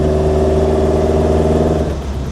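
A restomod Alfa Romeo Junior GT engine with a carburettor-like intake pulls hard with a loud, close, rising growl of layered tones, then eases off near the end; no talking.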